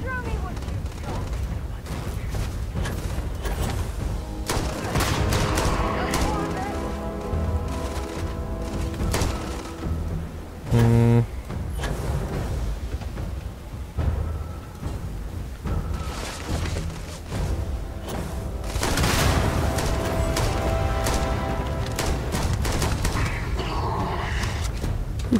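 Gunfire in the space game Starfield, with repeated shots and bursts across a busy in-game soundscape, loud and up close, with a player talking over parts of it.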